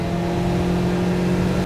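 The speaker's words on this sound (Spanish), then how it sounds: "me encanta el sonido de los motores boxer, suena muy bonito" A Subaru boxer engine revs steadily at close range, a throaty low drone held high for about two seconds before cutting off.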